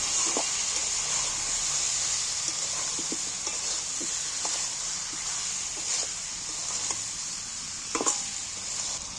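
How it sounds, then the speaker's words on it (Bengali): Ground coriander, cumin and garam masala sizzle and hiss steadily in a pan for a potato and pea curry, with a spoon scraping and clinking against the pan in irregular knocks throughout, close and continuous, no talk. "এইবার আমি ভালো করে সব মশলাগুলোকে একটু ভালো করে কষিয়ে নিই"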